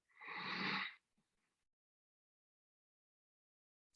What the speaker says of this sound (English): Listen to your breathing.